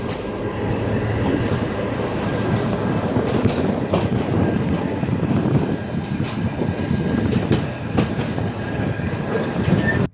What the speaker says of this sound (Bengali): তো আমাদের ট্রেন অলরেডি কালুরঘাট সেতুর উপর উঠে গেছে।